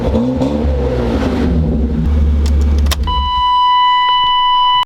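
A BMW E36 325is with its M50 engine idles and revs, a deep rumbling engine note that climbs briefly before cutting off, leaving a steady electronic tone.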